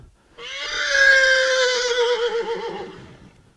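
An excited off-track Thoroughbred horse whinnies loudly and at length, answering other horses, the call wavering and trailing off over about three seconds, with no talking.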